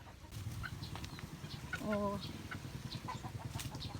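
Chickens cluck in short, scattered bursts nearby, with one clearer squawk in the middle and a brief voice under the farmyard noise.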